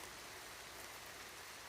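Steady rain falls all around a hiking trail in Massachusetts along the Appalachian Trail, a dense, even hiss with no pauses and no voices.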